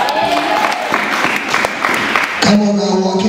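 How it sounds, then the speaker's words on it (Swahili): A church congregation claps in a continuous wash of applause with some crowd noise, then a preacher's voice and a sustained musical tone take over near the end. "piga makofi ya shangwe"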